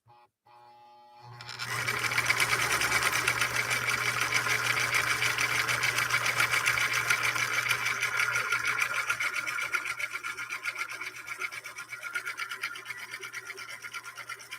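A 1958 Husqvarna Viking Type 21 sewing machine starts up after a moment of quiet and stitches continuously with a steady, fast mechanical whir and clatter, close and fairly loud, with no talking.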